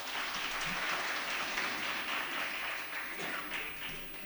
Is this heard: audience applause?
yes